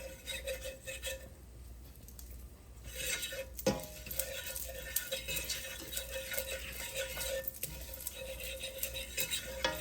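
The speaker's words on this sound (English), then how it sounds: "you just kind of stir it till you get it the texture that you want it" Homemade gravy is stirred in a pan on the stove, a quiet steady scraping of a utensil against metal with occasional clinks and a soft sizzle underneath, no voices.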